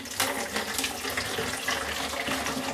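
Iodine-coloured C41 photo chemical mixture pours through a clean funnel in a steady, splashing trickle, moderately close and continuous, with small gurgles and no talking.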